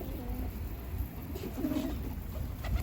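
Arab dolapçı pigeons coo softly and repeatedly in low, throaty phrases against a quiet outdoor background.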